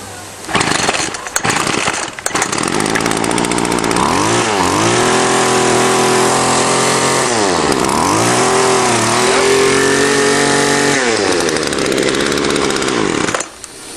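A small two-stroke weedeater string trimmer engine runs after a carburetor cleaning, a loud, close buzzing drone that revs up and down several times after a few sputtering starts, then cuts off at the end.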